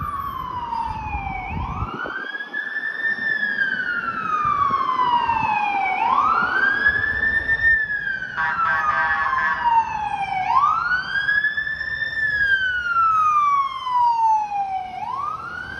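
Emergency vehicle sirens on a Toronto city street wail loudly in repeated rising and falling sweeps, with a second siren layered over them and steady traffic noise underneath.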